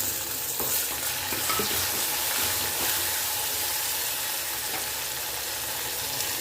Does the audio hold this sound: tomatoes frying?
yes